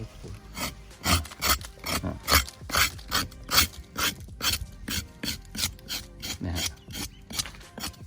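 Scraping at avocado tissue diseased with phytophthora, in a steady run of rasping strokes, roughly two per second, close and fairly loud with no talk.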